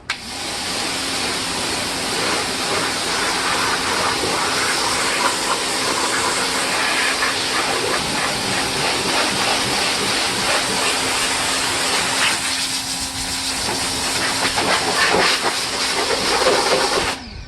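A Ryobi pressure washer sprays an RV caked with road grime, giving a steady, close, loud hiss of water jet that runs almost unbroken.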